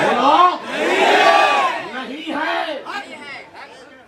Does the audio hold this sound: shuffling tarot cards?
no